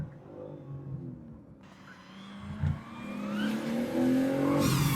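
A BMW M4 CS engine revs and accelerates hard in second gear, its pitch climbing steadily and growing louder, with a rising whine over a deep rumble.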